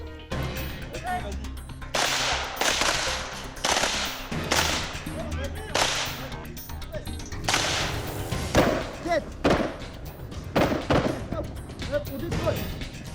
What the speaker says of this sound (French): Et après le pistolet automatique, le fusil mitrailleur.